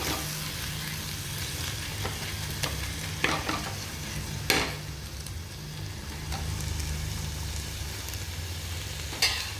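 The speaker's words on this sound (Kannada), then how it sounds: "ಈಗ ಟೊಮೊಟೊ ಫ್ರೈ ಆಗ್ತಾಯಿದೆ" Tomatoes frying with ginger-garlic paste in a pan, a steady close sizzle that runs the whole time, broken by a few sharp scrapes and knocks from the stirring utensil.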